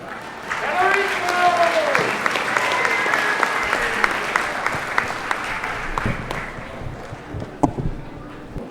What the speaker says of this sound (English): Let's give the graduates another round of applause.